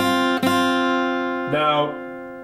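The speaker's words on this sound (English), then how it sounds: "I'm using a pick and it sounds like this." Two picked guitar strums, one near the start and another around midway, each ringing out and slowly fading with bright sustained notes.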